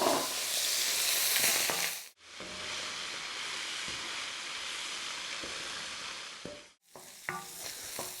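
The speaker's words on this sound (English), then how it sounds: "we're just going to drop our king prawns in until they go a nice pink colour." King prawns frying in hot oil give a steady, bright sizzle that cuts off briefly twice, then resumes with a few light clinks; no one speaks.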